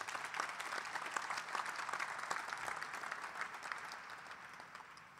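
An audience at a college sports press conference gives sustained applause, a steady wash of many clapping hands heard from a moderate distance, fairly quiet and even throughout.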